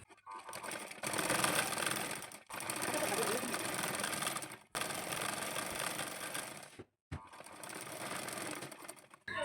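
Sewing machine stitching khan cloth for a double-layer quilt, a loud close whirring rattle in several long runs of a couple of seconds each, separated by brief stops.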